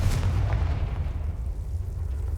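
Confringo fire spell exploding in the video game Hogwarts Legacy, a deep booming blast with a low rumbling tail that fades steadily.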